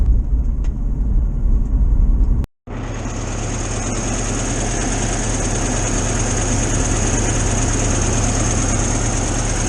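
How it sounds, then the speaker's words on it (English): A VW T2 camper engine idling steadily after carburetor adjustments, a close, even low rumble with a faint high whine, cut by a brief dropout near the start, then running smoothly with no talking. "I've made a few adjustments to the carburetor, definitely seems to be running better now."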